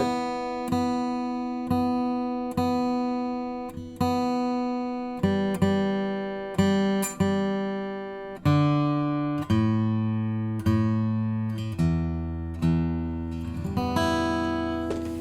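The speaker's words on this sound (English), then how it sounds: "Let's tune the guitar" A Furch GC-SW acoustic guitar with walnut back and sides has its strings plucked one at a time and left ringing, pitches shifting slightly as the strings are tuned, steady and close.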